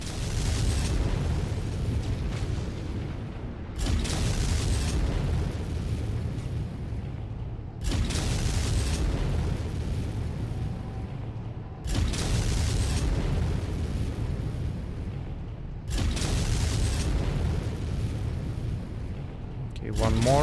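Booming explosions in the MechWarrior 5 mech combat game, a King Crab mech in the fight, heavy blasts recurring about every four seconds, loud and close over a constant engine rumble, with voices talking over them.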